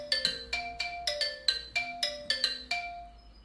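Electronic phone ringtone plays a bright melodic sequence of about a dozen chiming notes in quick rhythm, clear and alone, then cuts off.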